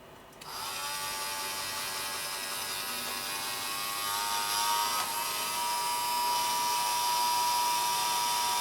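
A small electric motor geared up four to one through a 56-to-14-tooth sprocket chain drive turns an automatic calendar, giving a steady high-pitched whine with a faint rising shift midway, close and alone with no talk.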